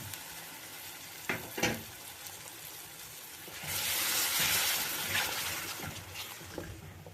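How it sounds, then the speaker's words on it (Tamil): Ground tomato paste, five tomatoes blended smooth, frying in hot oil for a garlic kuzhambu, a steady close sizzle that swells louder midway with a few sharper crackles and stirring clatters, with no voices. "தக்காளி ஒரு 5 தக்காளி அப்படியே நைட்டாக அரைச்சி வச்சுருக்கேன், அதையும் போட்டுக்கலாம்."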